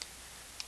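Calculator buttons are pressed twice, each a faint, crisp click with a short quiet gap between them.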